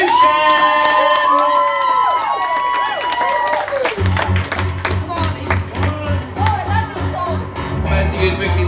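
A live audience at a music performance claps and cheers loudly, the crowd noise swelling under a sung melody before heavier music kicks in; a voice carries over the room.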